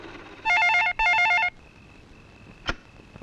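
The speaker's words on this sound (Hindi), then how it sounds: "भैया आपके लिए फोन है।" A telephone bell gives two short bursts of ringing, loud and close in a quiet room, followed by a brief click.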